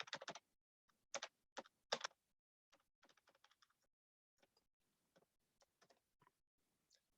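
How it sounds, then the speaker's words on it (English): Someone types an email address on a computer keyboard with quick bursts of loud keystrokes, then a slower run of sparse, softer taps, close and with no voices. "I'll type it here."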